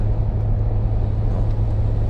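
A camper van's engine labours uphill in fifth gear, a steady, heavy low drone heard from inside the cab with no break.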